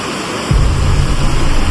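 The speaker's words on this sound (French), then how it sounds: "Regarde derrière les cascades." Waterfall cascading over a natural dam in a forest: a sudden, loud, steady broadband rush of falling water that starts partway through and keeps roaring, with no voices.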